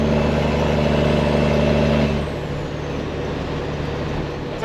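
Detroit diesel truck engine with loud pipes and a turbo, a heavy steady rumble close by that drops slightly in pitch and level partway through, then carries on droning.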